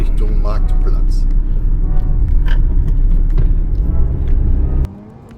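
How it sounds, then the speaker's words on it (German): Car driving down a village main street toward the market square, steady low engine rumble and road noise up close under a voice, cutting off abruptly at the end. "ich fahre jetzt mit dem Auto die Hauptstraße runter Richtung Marktplatz"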